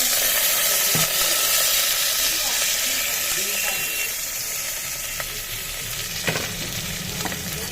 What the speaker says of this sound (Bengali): এই যে সব আনাজগুলো একসাথে তুলে দিলাম আনাজগুলো খুব একটা বেশি ভাজবো না